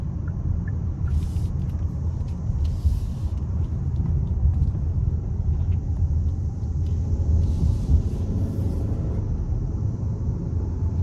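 A 2024 Hyundai Santa Fe Calligraphy with the 2.5-litre turbo four in sport mode, heard from inside the cabin as a steady low engine and road rumble with a mild swell, no talking.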